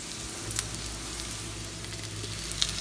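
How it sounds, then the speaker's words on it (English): Steady sizzling of a vegetarian Mexican breakfast hash frying in a hot pan, a continuous crackling hiss with a few sharper pops. "You can still hear it sizzling."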